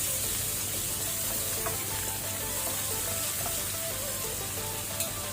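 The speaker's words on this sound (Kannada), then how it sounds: "ಇದನ್ನೀಗ ಸ್ವಲ್ಪ ಫ್ರೈ ಮಾಡ್ಕೊಳ್ಳುವ ಮೀಡಿಯಂ ಫ್ಲೇಮಲ್ಲಿ, ಕಲರ್ ಚೇಂಜ್ ಆಗಲಿ" Chopped onions sizzling in oil over a medium flame while a Mangalore-style mackerel masala fry is being prepared. A continuous, even crackle and hiss carries throughout, with a few faint clinks of stirring and no voices.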